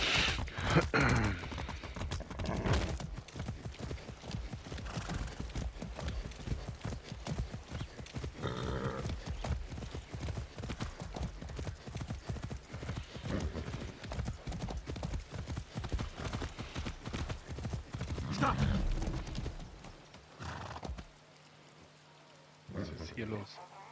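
Steady clip-clop of horse hooves trotting at a regular rhythm, fairly close, continuing for most of the stretch before fading near the end, in the video game Far Cry 6.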